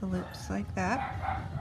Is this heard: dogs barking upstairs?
yes